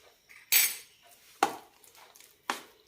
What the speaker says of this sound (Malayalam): നന്നായി മിക്സ് ചെയ്യാം.